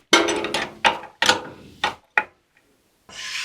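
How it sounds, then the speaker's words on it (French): Sharp metallic knocks and scrapes come from lock nuts being loosened with a wrench on a jointer-planer, six distinct close clanks in an uneven rhythm followed by a brief pause and a soft rustle. "Donc je vais venir desserrer les contre-écrous"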